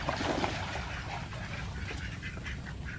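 A lost domestic duck quacks in a rural village after Typhoon Pepito, with a few clear calls early on and quieter ones after, set against steady broadband noise from the surroundings.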